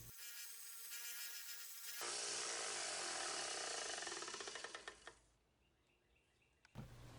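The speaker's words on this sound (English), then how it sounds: "I thinned those out with a belt sander" A belt sander grinds down thick PVC pipe, a loud broad abrasive roar that swells, holds for a few seconds and then winds down, with a quieter motor whine before and after.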